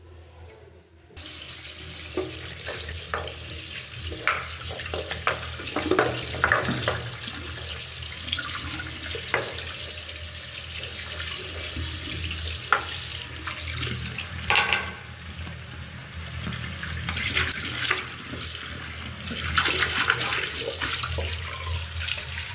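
Tap water runs steadily while hands or soil-caked items are scrubbed with soap at a sink, with splashing and rinsing bursts throughout and no talk.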